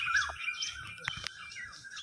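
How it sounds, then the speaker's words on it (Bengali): An Asian koel calls amid trees in Barrackpore, a bright rising whistle-like note sounding at moderate distance, with other faint chirps and background ambience around it and no talk. "আর দেখো কি সুন্দর কোকিল ডাকছে।"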